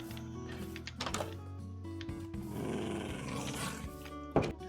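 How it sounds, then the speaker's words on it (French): A Minecraft dog lets out low grumbling growls amid game sound effects, including soft clicks and knocks, with one sharp thud near the end. "C'est le toutou qui râle"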